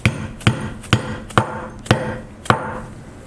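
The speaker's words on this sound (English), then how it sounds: "So just hammer it in," A steel plug is hammered into a 3/4 inch plate in six sharp, evenly spaced metallic strikes, each ringing briefly before the next, close and loud with no talking.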